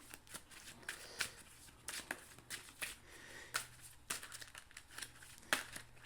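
A deck of Power Rangers: Heroes of the Grid game cards is shuffled by hand up close, with quiet, irregular papery riffles, rustles and crisp snaps continuing steadily.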